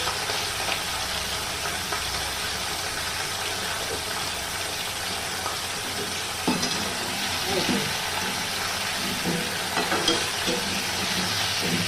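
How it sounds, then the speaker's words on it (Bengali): Potatoes and pointed gourd frying with salt in a covered pan, a steady close sizzle that runs throughout with a few faint stirring knocks. "নুন দিয়ে একটু ভাজবো, ঢাকা দিয়ে দিয়ে একটু ভাজবো।"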